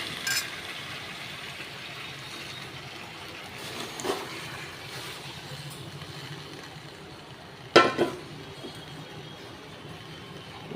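A little water is poured into a pan of cooking pumpkin greens, a soft watery splash over a low background, with a brief louder clatter near the end.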